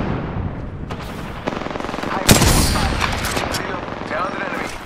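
Loud, close automatic gunfire crackles in rapid bursts during an Apex Legends match, with a sharp explosive crack near the middle followed by continued rattling shots and game effects.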